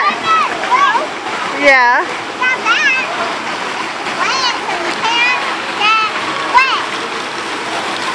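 Water splashing and rushing at a water park, loud and continuous, with excited children's shouts and voices talking over it.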